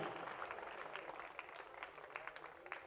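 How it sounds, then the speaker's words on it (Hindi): A seated audience applauds at a speech on cow protection, a fairly faint, distant patter of many hands clapping steadily throughout with scattered louder claps. "ताली बजाओ पहले जोर से।"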